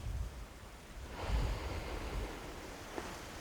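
Sea waves and wind along a summer shore, a soft broadband wash that swells in a gentle surge partway through, with light wind buffeting the microphone, faint and without voices.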